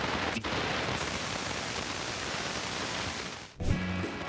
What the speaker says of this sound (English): The Channel 3 static.